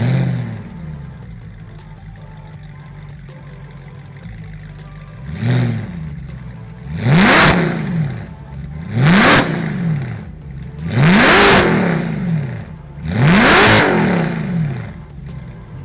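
Mercedes-AMG SLS exhaust revved repeatedly while parked: a low idle, then five loud rising blips in a steady rhythm, each climbing sharply and falling back, close and alone.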